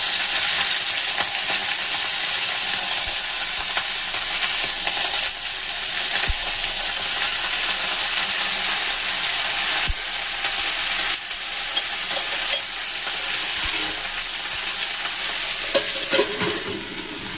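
Winter vegetables for shukto, including papaya and pumpkin, fry on a medium-low flame with a steady, even sizzle and hiss that runs throughout, broken by a few faint clinks, no talking.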